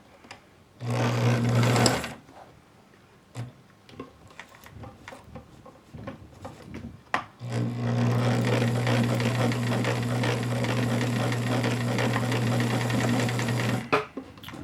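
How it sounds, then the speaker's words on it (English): A Bernina Record 830 sewing machine stitches a zippered pouch in two loud, steady bursts, a short one and then a longer run of about six seconds, with quiet handling noises between them. "I need to lock this stitch down right here at the end."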